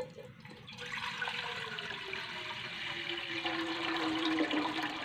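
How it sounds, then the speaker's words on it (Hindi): Water pours steadily from a jug into a cooking pot on a lit stove, a continuous splashing rush whose pitch rises gradually as the vessel fills. "यहाँ पे एक जग मुझे पानी शामिल करना है"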